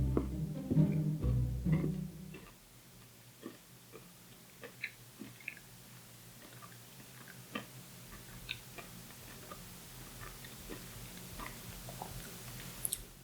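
Crunchy Finnish Fazer chocolate is chewed close up: a louder burst of crunching at the start, then quiet, sparse crisp clicks and small crunches scattered over a hushed background.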